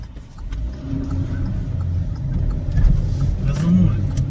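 A 2020 Kia Rio's engine revs as the car pulls away in slow city traffic, a steady low rumble swelling slightly toward the end, heard from inside the cabin.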